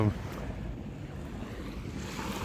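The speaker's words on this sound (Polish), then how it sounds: "To jest normalna, normalna taka plaża." Waves washing onto an ordinary public beach at Jepara around midday, a steady, fairly close rush of surf mixed with wind buffeting the microphone, with no distinct breaks.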